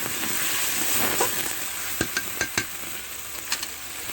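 A pangas fish head being stirred and fried in a pan with a little water, soft sizzling under a series of sharp utensil scrapes and taps against the metal.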